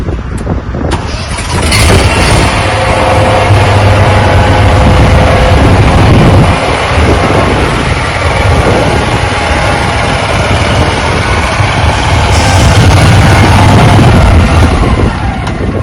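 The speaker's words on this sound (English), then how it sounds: "we'll go ahead and unload a mower and show you how it works" A Wright ZK3 52-inch commercial mower engine runs loud and steady as the machine is unloaded from a truck at an equipment expo, a continuous rumbling drone with no pauses.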